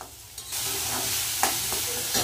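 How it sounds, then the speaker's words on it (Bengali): A spice paste of ginger, cumin, turmeric, salt, tomato and green chilli fries in a pan, a constant sizzle broken by a few quick stirring scrapes. "আর নুন আর টমেটো কাঁচা লঙ্কা। ভালো করে কষিয়ে নেব মশলাটা।"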